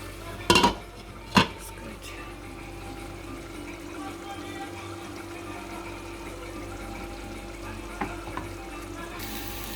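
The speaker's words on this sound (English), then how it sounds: "you add the chilies and you just let them cook for about a minute" Chilies frying in hot oil for a masala chicken, a steady even sizzle running throughout, broken near the start by two sharp clanks of a utensil against the pan and a few light taps later on.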